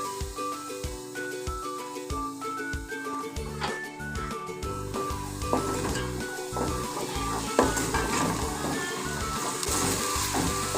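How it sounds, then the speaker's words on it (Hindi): Onions fry in oil in a pot for handi dum seekh kabab, a steady loud sizzle running throughout with occasional stirring clatter. "प्याज को मैं अच्छे से फ्राई कर लूँगी ऑयल में"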